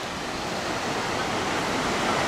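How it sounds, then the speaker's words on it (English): A small waterfall beside a shrine in Taiwan pours in a steady, continuous broadband rush of falling water, fairly close and even throughout with no pauses. "you got the shrine with a little waterfall kind of thing"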